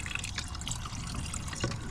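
Fluid draining from a Coleman Powermate Powerbase 5000 generator during repair, a steady close trickle and splash of liquid with a few drips, fairly faint and without voices.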